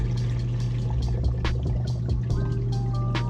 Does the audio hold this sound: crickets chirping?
no